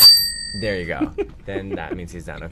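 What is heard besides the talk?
bell being rung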